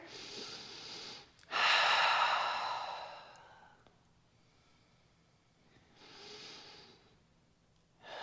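Deep breaths taken during a recovery stretch, with a long, loud, close exhale, a quiet pause, then a softer second breath starting, no speech.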